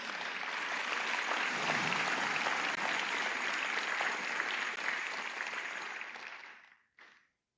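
A church congregation claps together in sustained, dense applause at a Sunday service, steady and full for several seconds before tapering off abruptly, followed by one brief final burst.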